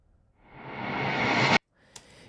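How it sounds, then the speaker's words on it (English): A pop ballad production riser effect heard unprocessed: a broadband swell building steadily louder over about a second and a half, then cutting off abruptly, followed by a brief faint blip. "The riser originally is like this."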